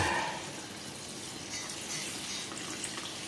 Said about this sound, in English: So first we'll give it the lukewarm water.